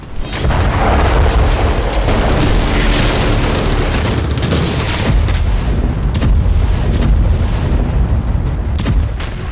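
Artillery shelling in Donetsk thunders as a dense, continuous barrage of heavy booms and blasts. The rumbling explosions overlap for the whole stretch, loud and close, with no voices.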